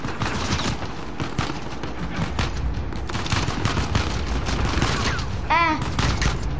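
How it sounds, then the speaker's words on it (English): Dense enemy gunfire rattles almost nonstop in an Uncharted 4 firefight, with repeated close bursts over a loud, busy battle bed and a brief rising whoosh near the end. "They're shooting again."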